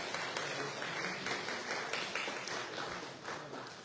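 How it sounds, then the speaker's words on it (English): An audience claps in a sustained round of applause, a dense even patter of many hands heard at moderate distance, fading slightly toward the end. "give yourselves another round of applause"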